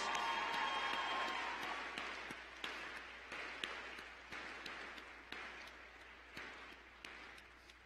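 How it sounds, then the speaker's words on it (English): A graduation commencement crowd claps in a sustained round that starts dense and slowly thins, with scattered individual claps standing out as it fades. The whole round stays fairly faint and distant. "Class, please join me in a round of applause for these very, very special people in your lives"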